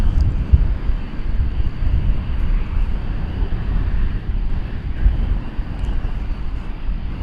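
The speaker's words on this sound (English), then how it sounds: "Flight 35 to Auckland is getting pretty close to the mark here" An airliner bound for Auckland rumbles at DFW Airport, a continuous low, heavy engine roar with wind buffeting, steady and fairly loud throughout.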